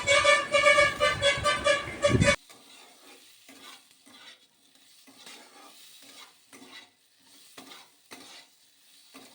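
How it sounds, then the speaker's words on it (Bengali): Chicken with vegetables and salt is stirred and fried in a pan for a chicken stew. A loud tonal burst opens the clip, then quieter, irregular spoon scrapes and light sizzling follow up close. "লবণ দিয়ে এটাকে ভালো করে নাড়াচাড়া করব। বেশি লাল করে ভাজবো না, হালকা মিডিয়াম করে এটাকে ভাজবো।"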